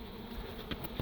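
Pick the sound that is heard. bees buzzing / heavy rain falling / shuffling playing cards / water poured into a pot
bees buzzing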